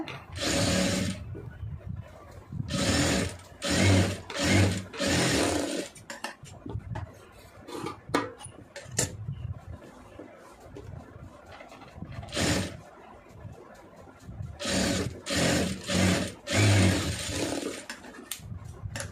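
Sewing machine overlocking the neck piece of a blouse, running in short rapid bursts of stitching separated by pauses, close and clear with no talk.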